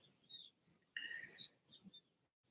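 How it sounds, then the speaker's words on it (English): Small birds chirp outdoors in pouring rain, giving several brief, faint, high chirps scattered over a soft background wash. "Even the birds out in the rain."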